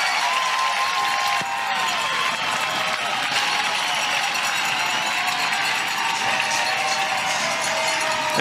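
A hometown crowd at a softball game cheers and applauds after a run scores, a sustained broad roar of clapping and shouting with a few sharper whistles rising above it.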